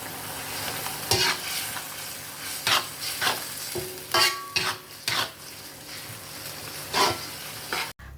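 Tuna stir-fry sauce with sweet soy sauce and oyster sauce sizzles steadily in a pan, punctuated by repeated scraping stirs and clinks of a utensil against the metal, close and fairly loud with no talk.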